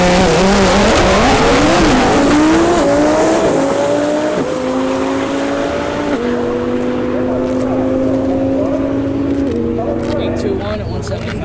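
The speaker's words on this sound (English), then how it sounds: "it's a 2018 Lamborghini Performante" A 2018 Lamborghini Huracan Performante fitted with an Alpha 16X kit drives fast, its engine note climbing through loud stepped gear changes with some tire noise, close and continuous, while voices talk over it.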